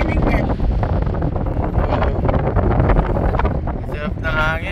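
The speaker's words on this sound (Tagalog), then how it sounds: "Sarap ng hangin, no?" Strong wind buffeting the microphone at SeaWorld, a loud continuous roar with people talking through it.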